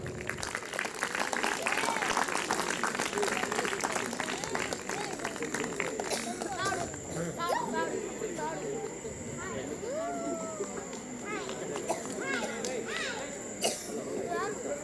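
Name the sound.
audience applause, clapping loudly in church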